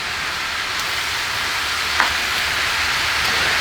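Food sizzles steadily as it cooks away in a skillet, a constant close hiss of frying with a faint clink partway through and no talking.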